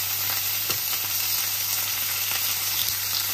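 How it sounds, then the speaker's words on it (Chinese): Steady, close sizzling and crackling of hairtail fish frying in a pan at home, continuous hiss with small pops and no voices. "带鱼搁那锅煎着，"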